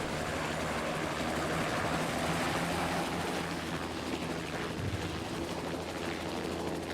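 A Bell 407 helicopter's steady rotor and turbine drone holds constant throughout in the Prepar3D flight simulator, with no speech.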